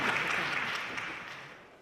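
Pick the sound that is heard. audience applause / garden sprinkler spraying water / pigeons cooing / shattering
audience applause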